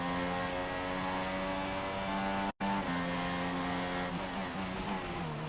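A Renault Formula 1 car engine in the racing game F1 2016 holds a high, steady whine. A momentary cut interrupts it before it resumes with shifting pitch.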